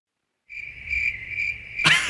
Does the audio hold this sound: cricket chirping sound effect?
yes